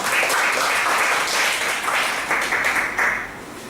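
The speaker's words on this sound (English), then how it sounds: "Give her a big round of applause." An audience at a Toastmasters club meeting gives steady, full applause, a dense roar of many hands clapping that holds for several seconds at close range before easing slightly at the end.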